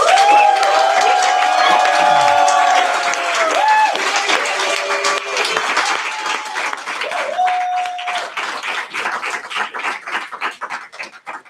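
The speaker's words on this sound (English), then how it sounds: "So let's give him another round of applause." Audience applause at a livestreamed Young Leaders Fellowship event, sustained clapping from a crowd that thins into scattered claps toward the end, with some tonal background sounds and faint voices mixed in.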